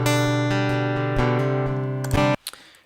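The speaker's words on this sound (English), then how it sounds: "So again, this is the sound of the Piezo." Acoustic guitar heard through a piezo pickup, strummed chords ringing brightly and close with several attacks, then cut off abruptly and followed by a short faint noise.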